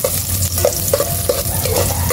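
Garlic sautéing in a pan with a steady, close sizzle and repeated light clinks of a spatula against the pan, loud and without speech.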